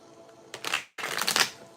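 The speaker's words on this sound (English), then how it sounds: "One more shuffle." A Gilded Tarot card deck is shuffled close by in two quick riffling bursts separated by a brief pause, crisp and papery, with no voices.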